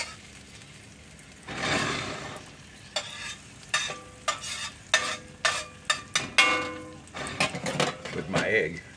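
Fried bologna sizzles in butter in a pan, a steady frying hiss punctuated by repeated scraping and clinking of a utensil against the pan, with intermittent talking over it.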